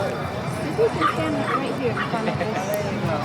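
Dogs at an outdoor dog festival in Somerville give short yips and whimpers across a busy field, mixed with crowd murmur and talk.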